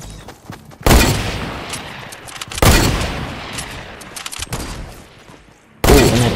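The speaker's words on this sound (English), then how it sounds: "Sniper shootout." Sniper rifles trade fire in a Fortnite shootout: three loud, sharp cracks come several seconds apart, and each leaves a long, fading echo.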